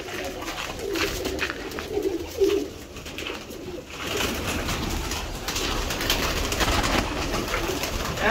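Pigeons coo repeatedly at a moderate distance, soft throaty calls rising and falling over a steady outdoor background hum, with no voices.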